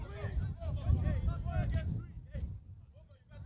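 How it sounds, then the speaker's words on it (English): Low, rumbling wind buffeting the microphone on a windy day at an outdoor football match, continuous throughout, with faint speech and a distant crowd murmur underneath. "Apologies if the crowd mic was pretty loud. It's quite a windy day here."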